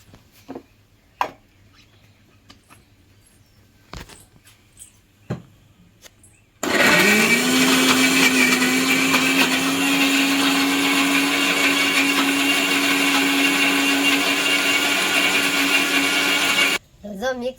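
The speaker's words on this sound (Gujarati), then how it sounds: "તો જો મિક્સરમાં શેપી નાખ્યું, જ્યુસ જેવું બનાવી નાખ્યું." A kitchen mixer grinder blends coconut with water, starting abruptly after a few faint knocks and running as a loud, steady whirring drone for about ten seconds before cutting off.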